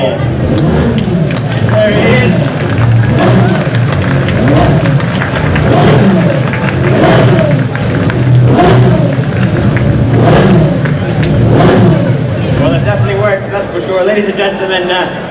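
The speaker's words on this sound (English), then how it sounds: "The 1986 Indianapolis 500 March 86C racing car" A 1986 March 86C Indianapolis 500 racing car with a Cosworth engine, heard as a loud, continuous engine roar with repeated rises in pitch over about fifteen seconds, with a voice over it.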